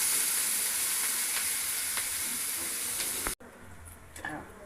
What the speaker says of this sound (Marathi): कांदा थोडा 1-2 मिनटं आपल्याला परतून घ्यायचा आहे.